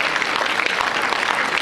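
Dense, warm applause from an audience at a youth Chinese opera performance fills the space, steady and loud throughout.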